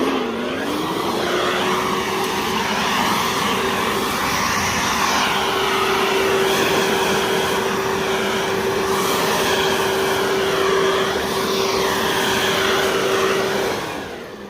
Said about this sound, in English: probably the most powerful 18-volt tool platform blower that you can get